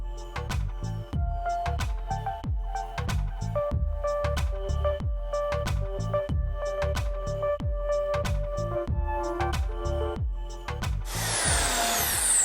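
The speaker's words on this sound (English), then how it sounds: "From the manometer, you will immediately see when the pilot drill penetrates the pipe." A pilot drill bores through a pipe while fitting a Vexve ball valve with a Tonisco Jr Blue Line tapping unit, a loud steady grind broken by rapid regular clicks of the drive, ending in a harsher burst.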